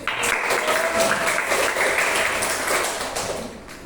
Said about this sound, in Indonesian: Silakan tepuk tangan buat Adit.